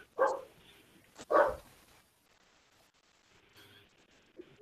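A dog barks twice in quick succession in the background, fairly faint and distant, followed by a few softer sounds and quiet room noise without talk.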